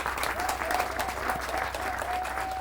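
An audience claps warmly at a French-language cultural festival event, a brief, steady burst of applause with a faint tonal hum running underneath.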